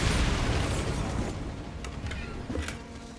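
A Bombarda spell detonating in Hogwarts Legacy: a loud, broad explosive boom that fades over a few seconds, with a couple of short sharp pops afterward.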